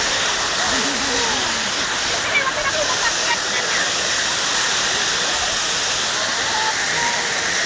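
A flowing stream rushes loudly and continuously nearby as people cross it, with faint voices now and then under the steady wash of water.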